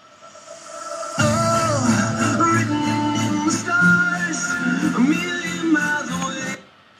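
A song plays loudly and continuously after a second of near silence, a full band mix with steady beat and vocals carrying through to an abrupt stop near the end.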